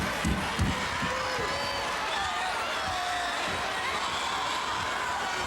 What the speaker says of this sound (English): The joy of the crowd pounding the mat.